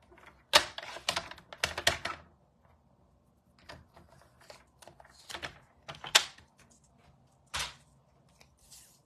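A paper trimmer slices through cardstock for card making, giving several sharp clacks and scraping cuts in quick clusters, with pauses between strokes, close and fairly crisp.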